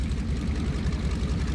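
A steady, loud, low droning aircraft engine in the video game War Thunder, a continuous pulsing throb with no talk over it.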